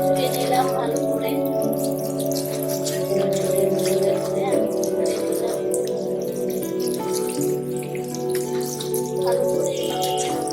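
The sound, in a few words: washing thankuni (Indian pennywort) leaves under running water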